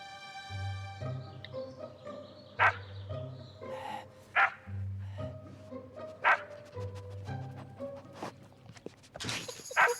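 A dog barks in an animated cartoon, several sharp yaps spaced a second or two apart, set against musical tones and soft shuffling, ending with a louder burst.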